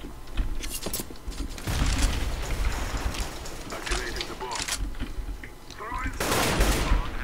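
Rapid gunfire bursts and rattling shots from a Counter-Strike: Global Offensive match crackle almost without pause, loud and dense, with voices talking over the action.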